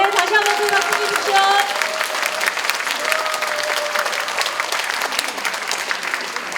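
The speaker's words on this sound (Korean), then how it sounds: "다시 한번 큰 박수 주십시오." Audience applause at a lecture event, dense sustained clapping from a crowd that stays loud before gradually thinning, with a voice speaking briefly over it at the start.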